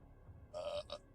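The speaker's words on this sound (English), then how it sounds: "I got a burp." A single loud, drawn-out burp from a man livestreaming, close to the mic, rumbling for about half a second with a short second gulp right after.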